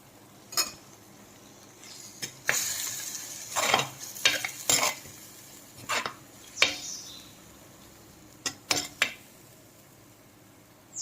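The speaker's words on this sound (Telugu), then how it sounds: "ఇది కొంచెం పచ్చివాసన పోయేదాకా వేయించుకోవాలి దీంట్లో ఇప్పుడు ఒక రెమ్మ కరివేపాకు వేసుకుందాం" Curry leaves and a fish curry base fry in a clay pot, with intermittent spoon scrapes and stirring over a low sizzle, close and fairly quiet, with no talking.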